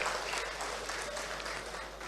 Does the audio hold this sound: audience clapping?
yes